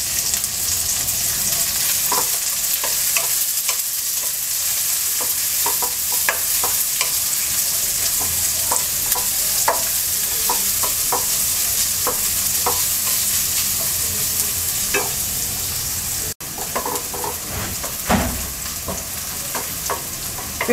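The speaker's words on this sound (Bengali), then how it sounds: "পেঁয়াজটাকে আমরা হালকা ভেজে নেব" Chopped large onion frying in oil for a prawn mung dal bhuna makes a continuous close sizzle, punctuated by scattered clicks and scrapes of stirring throughout.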